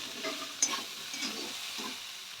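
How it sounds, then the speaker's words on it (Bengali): A ground cumin spice paste fries in a pan while being stirred, a soft steady sizzle with scraping strokes and a small clatter early on, fairly quiet and with no one speaking. "এরপর একটু ভেজে নেব, মশলার সাথে মিশিয়ে নেব।"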